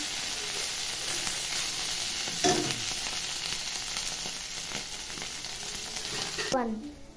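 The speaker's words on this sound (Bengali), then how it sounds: "যতক্ষণ আমার আলু ভাজা হচ্ছে" Sliced potatoes sizzle in hot oil in a pan, a continuous close frying hiss with light stirring scrapes and a brief clink, fading at the end.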